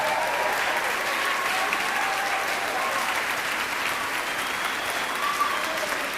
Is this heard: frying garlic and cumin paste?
no